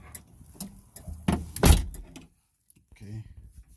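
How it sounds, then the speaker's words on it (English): The door of a Dodge Magnum shuts with one heavy, close slam in the middle of the clip, with lighter handling clicks and rattles around it and brief talk near the end. "Close the door."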